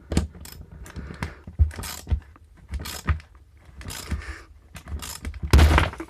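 Sharp metallic cracks and snaps come from shear bolt heads breaking off on an ABC overhead power line connector, several separate clicks spread across a few seconds with handling noise between them.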